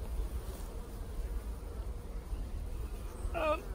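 A steady, dense hum of many honeybees buzzing up close in an open hive during an inspection, continuous and unbroken, with a faint brief rustle near the end.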